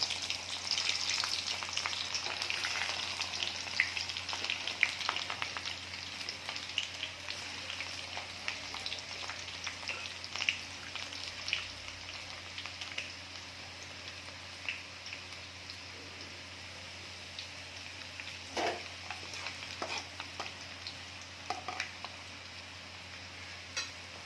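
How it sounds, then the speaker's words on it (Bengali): Garlic sizzles and crackles in hot oil for mutton kosha, a continuous frying hiss with scattered pops and occasional stirring scrapes. "তেলটা গরম হয়ে গেছে, আমি রসুনটা দিয়ে দিলাম"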